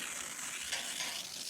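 Gas welding torch melting a welding rod or coat hanger into metal heated red, a steady soft hiss and crackle of the flame, faint and continuous with no talk.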